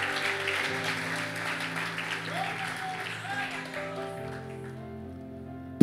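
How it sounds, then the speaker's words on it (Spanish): A church congregation applauds loudly during a sermon, a steady dense wash of clapping under sustained tones from a keyboard or organ that continue throughout. "Aplauda fuerte."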